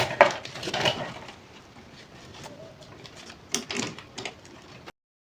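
A lunch bag's adjustable belt being stitched on a sewing machine, a quiet mechanical clatter with soft thumps and a few brief, louder bursts, ending in silence.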